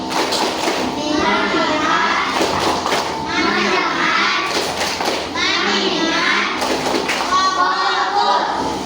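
A group of schoolchildren in a classroom chant a rhythmic clapping routine, their voices loud and close and mixed with quick, light claps.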